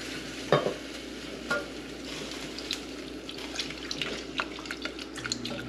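Milk is whisked into a cooking sauce a little at a time. Soft stirring and whisking scrapes and faint liquid clinks sound close, with a brief louder knock near the start and no talk.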